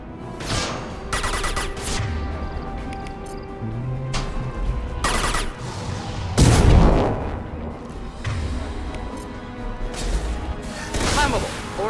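Gunfire in the video game Mass Effect 2 during combat, with scattered sharp shots and a louder explosive burst near the middle, heard under and between bits of talk.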